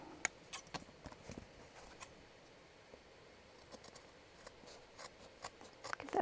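Scissors trim paper and fabric for a junk journal, giving faint, close, scratchy snips and light rustling in a quiet room.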